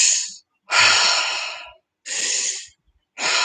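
Deep breathing demonstrated up close: long, loud, rushing inhales and exhales separated by short silences where the breath is held.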